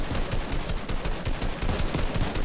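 Gunfire from a Kar98-like rifle in a video game, dense and loud, with shots coming rapidly and unevenly one after another throughout, and no voices heard.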